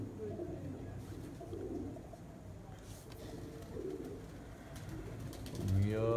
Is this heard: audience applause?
no